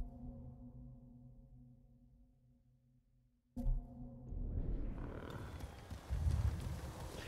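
Horse ridden through the open countryside of Ghost of Tsushima, a samurai video game: hoof clip-clop and movement noise rise abruptly midway and continue fairly loud and steady, following a quieter stretch of low tonal game ambience.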